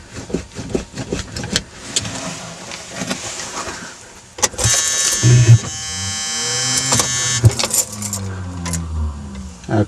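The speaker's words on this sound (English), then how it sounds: "the starter drive is not engaging" A 1978 Mercury Grand Marquis starter whirs on a cold start at 20 degrees with the starter drive failing to engage. Clicks and clunks come first, then two bursts of loud, close electric whining.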